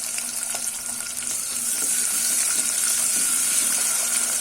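Long-sliced large onions sauté in hot oil with spices in a pan, a steady close sizzle that swells louder partway through, with faint stirring scrapes and no voices.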